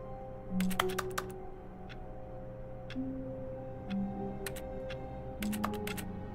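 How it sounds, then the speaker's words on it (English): Keyboard typing in The Stanley Parable: Ultra Deluxe, a run of sharp key clicks in uneven bursts over a steady low electronic hum, with short pauses between clusters. "Press an E and it's doing keyboard noises."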